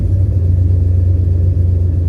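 An old truck's engine idles steadily up close, a continuous low rumble with a strong, even hum and no revving or voices.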